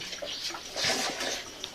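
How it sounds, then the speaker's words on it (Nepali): Water pours from a jug in a home kitchen, a steady splashing stream for about two seconds with a brief surge midway, fairly close and without talk. "जगले पानी नै हाल्दैछ"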